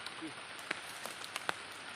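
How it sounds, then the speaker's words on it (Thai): Rain falls outdoors in cold weather, a steady hiss with a few sharper drops standing out, heard close by and fairly soft. "มาแล้วฝนใหม่อีกจ้า"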